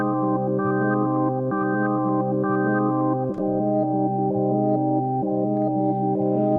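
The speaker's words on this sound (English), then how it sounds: "I'm going to have these two notes going in reverse." Two sustained synth tones played in reverse in the Arcade by Output plugin alternate back and forth in a steady, even rhythm, played alone with no voices.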